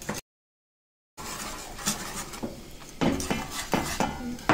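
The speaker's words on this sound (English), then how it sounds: "You whisk that inside the sauce" Marinara sauce being whisked in a pot, a brief silence and then close metallic scrapes and clinks of the whisk against the pot in an uneven rhythm, growing louder toward the end.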